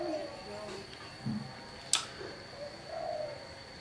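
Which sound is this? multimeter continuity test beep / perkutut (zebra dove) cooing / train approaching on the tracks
perkutut (zebra dove) cooing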